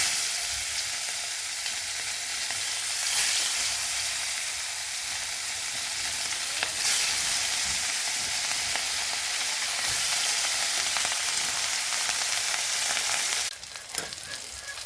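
Katla fish pieces rubbed with salt and turmeric frying in mustard oil in a hot kadhai, a loud, steady, close sizzle that carries on without a break, with a few soft knocks and a clatter near the end.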